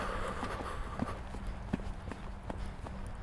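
Hooves of a ridden horse trotting in a riding session give a steady, rhythmic clip-clop of muffled beats at a moderate distance over a constant background hum.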